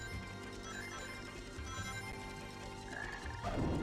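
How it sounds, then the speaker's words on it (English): A frog croaks in Sonic Heroes, its low, repeated calls buried in dense, busy game music and effects, faint and continuous, with no voices over it. "Did you guys hear a croak?"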